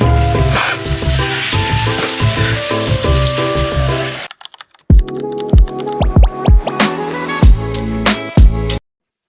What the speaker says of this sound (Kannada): ಇವತ್ತ ನಮ್ಮ ಮನ್ಯಾಗ ಫಿಶ್ ಫ್ರೈ ಮಾಡಾಕ್ತಿವ್ರಿ